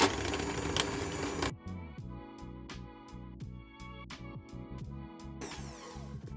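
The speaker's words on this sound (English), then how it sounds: "I'm going to whisk this until it's nice and thick" Double cream with caster sugar is whisked, probably with an electric whisk: a dense mechanical whir starts the clip, then a buzzing motor hum follows with regular clicking pulses, and the full roar returns near the end.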